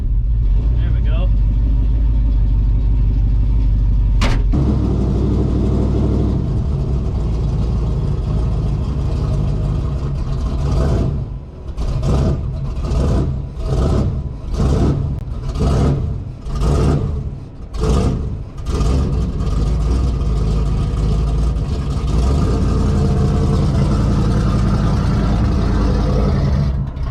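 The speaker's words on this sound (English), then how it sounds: "Whole thing's just camming away out here. One muffler on, one muffler off. Just barely idling." A cammed 1958 Chevrolet Apache shop truck with one muffler removed idles low and loping, its rough rumble steady throughout, with rhythmic louder pulses midway and someone talking over it.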